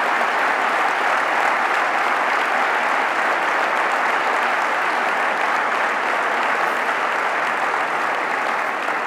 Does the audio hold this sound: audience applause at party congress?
yes